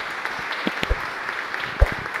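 A crowd at a civic-cultural ceremony applauds honoured guests with steady, moderately loud clapping, broken by a few louder individual claps and thumps.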